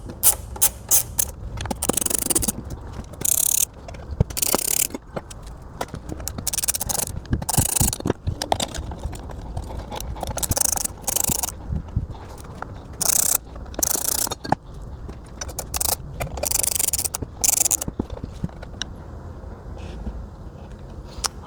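Small T8 Torx screws come out of metal screen brackets for a Ford Focus Electric infotainment upgrade, with dense ratcheting clicks from a driver and metallic handling noises, close and continuous throughout.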